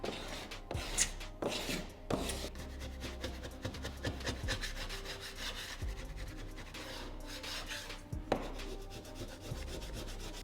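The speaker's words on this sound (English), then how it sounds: "Now we're gonna really scrape it." Drywall being scraped around a window, close rough rubbing and rasping strokes in an irregular rhythm, moderately quiet and without talk.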